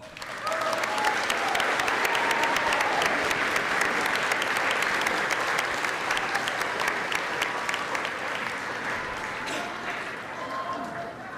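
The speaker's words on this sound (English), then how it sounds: "Class of 2026, please stand, face your families, and give them a round of applause." A large crowd of high school graduates at a graduation ceremony gives a long, dense round of applause to their families, with scattered voices and shouts beneath the steady clapping.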